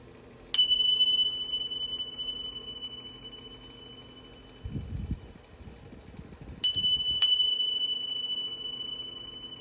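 A chime rings clearly three times, once at the start and twice in quick succession later, each strike leaving a long, pure ringing tone that fades slowly over soft background noise.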